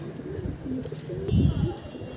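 Pigeons in a loft setup coo in low, soft rolling phrases, with a louder burst of cooing near the end over a steady background hum.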